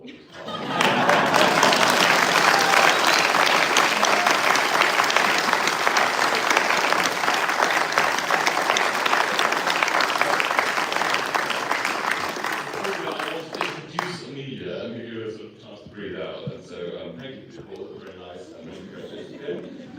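Graduation ceremony audience applauding loudly and steadily for about twelve seconds, then the clapping thins out and fades into scattered claps and quiet room noise.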